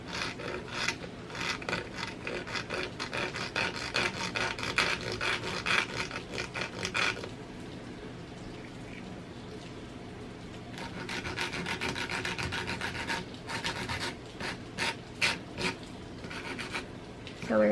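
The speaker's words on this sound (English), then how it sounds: "I'm literally just going in with my file, and I'm just going to scrape it up and down" Nail file rasping up and down on an acrylic nail in rapid, rhythmic close strokes, steady at first, pausing midway, then resuming in distinct bursts.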